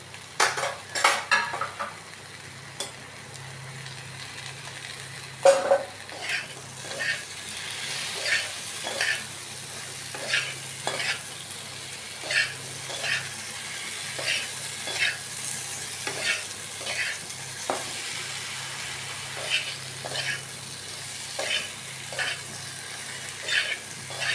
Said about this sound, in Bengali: ঝিঙ্গে এবং টমেটো এগুলিও দিয়ে দেবো এবং লঙ্কাগুলিও দিয়ে দেবো